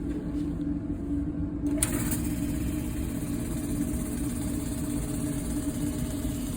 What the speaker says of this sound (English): switch on the pump.